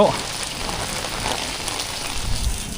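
Heavy rain pours steadily onto a street in Siam Square, Bangkok, a dense, even hiss of drops hitting the pavement with faint low rumbles underneath.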